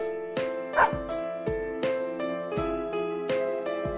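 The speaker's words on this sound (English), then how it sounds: "Oh, well, the name of this animal is a dog." Snowy, a white dog in the video game Persona 4 Arena, barks in a steady series of bright, tonal woofs, roughly eight close, evenly spaced barks with ringing harmonics.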